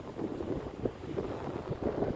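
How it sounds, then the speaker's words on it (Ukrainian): Strong gusty wind on a beach in Alanya buffets the microphone in a low, steady rumble with no voices. "Але тут вітер дуже великий."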